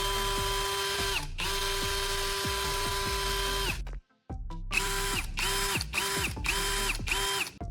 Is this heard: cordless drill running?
yes